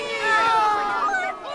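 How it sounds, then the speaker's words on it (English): A group of children exclaims at once, high excited voices as salmon eggs pour out of a female fish during an egg take on the Anchor River; a brief, loud, sustained chorus of squeals and chatter. "That's the sound of a herd of children reacting to eggs pouring out of a female salmon."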